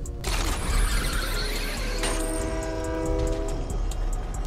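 A train rumbles past in the video game Fortnite with a loud clattering roar, and a sustained horn blares midway through.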